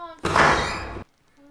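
A door in the Roblox horror game AKUMU swings open or slams in a single loud, sustained thud-and-rush of about a second, followed by near quiet with faint tones.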